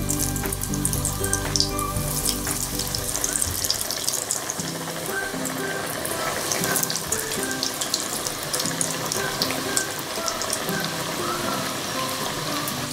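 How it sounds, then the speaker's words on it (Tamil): Fish fingers fry in hot oil over a medium flame, giving off a loud, steady, close crackling sizzle with fine popping throughout. "இப்போ நம்ம ஃபிஷ்ஷை பொரிச்சு எடுத்துடலாம்"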